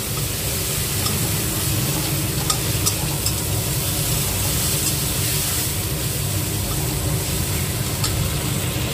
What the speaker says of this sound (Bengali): আর মশলাটাকে এইভাবে ভালো মতন কিন্তু কষিয়ে ফ্রাই করে নিতে হবে।